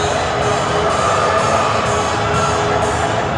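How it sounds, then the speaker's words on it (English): Steady, dense crowd murmur fills a high school gym at a district first-round basketball game between Madison Central and Berea, loud and continuous with faint scattered whoops rising from the general din. "Good crowd in here tonight for a first"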